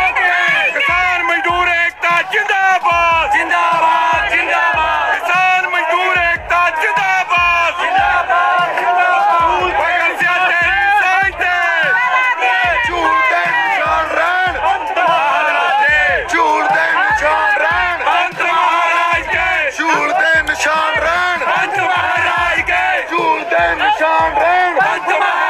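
A large crowd of farmers at the Red Fort shouts Sikh jaikara slogans in loud, rhythmic, chanted bursts that repeat in waves for the whole stretch, with many voices calling together close to the microphone.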